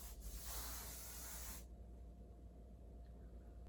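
Hair spray mists onto waved hair and heart-shaped bangs in one steady hiss of about a second and a half, close up, then stops abruptly, leaving near silence.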